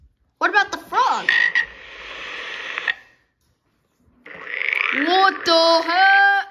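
A toy plays a recorded frog croaking in two loud bursts of rapid, chirping croaks separated by a second of silence.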